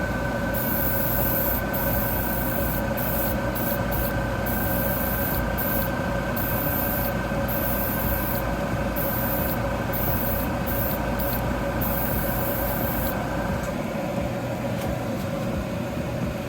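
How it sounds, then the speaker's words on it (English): A continuous airbrush spraying paint onto a 1/100 scale model kit hisses steadily, broken by brief pauses as the trigger is released, with a faint mechanical hum underneath. "As you see, when I spray it, I let it kind of go over."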